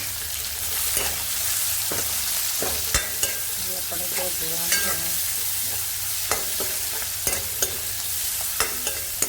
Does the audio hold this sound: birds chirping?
no